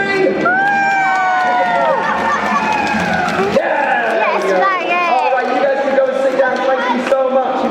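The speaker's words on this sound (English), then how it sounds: "all the people out here are going to give you a massive cheer" At the final-day show, an audience gives a big cheer with excited children shouting and whooping over busy crowd chatter, loud and close throughout.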